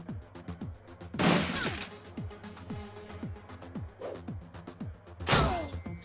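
Grenade explosions in the game Shadowrun: Dragonfall, two loud bursts several seconds apart over a backdrop of repeated gunfire thumps.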